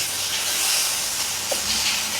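Soaked potatoes hitting hot oil, a loud, close, continuous hissing sizzle that holds steady throughout with no voice.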